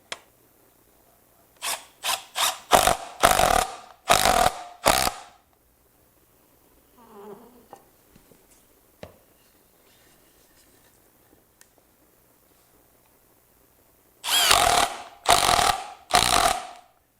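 Cedar planter pieces are screwed together with a power drill: several short bursts of drilling near the start, then quiet handling noises, then a few more bursts at the end, close and loud with no talking.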